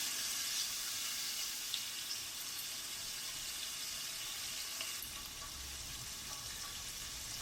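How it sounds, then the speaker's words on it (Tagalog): Marinated chicken barbecue frying in a pan, producing a continuous soft hiss and sizzle throughout, steady and close with no speech. "Then sa same pan, doon natin ipiprito yung ating chicken barbecue."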